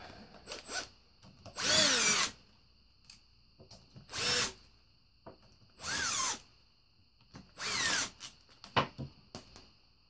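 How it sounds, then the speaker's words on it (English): Power drill backing out the case screws on a 1998 Polaris Scrambler transmission: four loud, close whirring bursts, each about half a second long, separated by quieter clinks and handling noises. "we're going to go ahead and take all these out."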